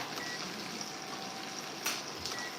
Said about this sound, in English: it's cooking, coming along. I can hear the sizzle.